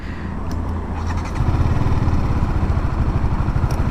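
A TVS Apache RTR 310 motorcycle engine drones loud and close as it pulls under throttle, a steady low rumble that steps up in intensity partway through, with no voices.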